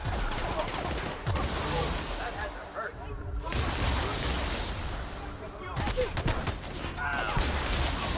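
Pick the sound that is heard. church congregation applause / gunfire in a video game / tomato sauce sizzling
gunfire in a video game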